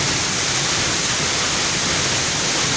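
Sarambu Alla waterfall in Sabbang, North Luwu, pours with a loud, dense, unbroken roar of falling water heard up close and alone.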